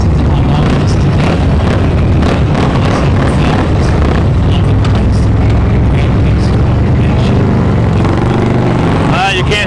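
A parade passes with loud motorcycles roaring continuously close by, a heavy rumbling engine drone that drowns out everything else, with a rising whine near the end.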